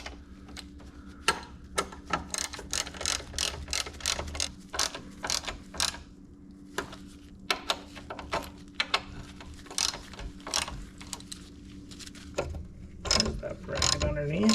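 A hand tool tightens Allen screws on a fork bracket of a 1988-2000 Honda Goldwing GL1500, giving a rapid series of close, sharp ratcheting clicks over a steady low hum, with a louder clatter at the end.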